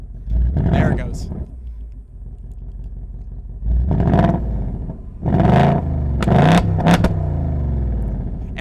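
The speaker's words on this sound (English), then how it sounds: "It'll start revving it for you." A 2024 Ford Mustang Dark Horse sits idling while its engine is revved from the remote key fob. Several loud revs rise and fall over a low rumble, and a person talks close by.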